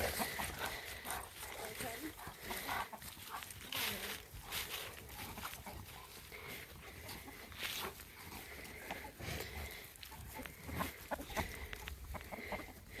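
Chickens cluck and squawk steadily around a Northern Michigan homestead farmyard at feeding time, with talking over the top and a dog barking now and then.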